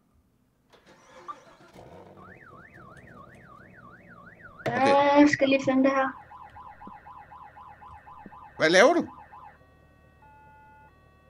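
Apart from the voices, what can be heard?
car alarm in Roblox Vehicle Simulator video game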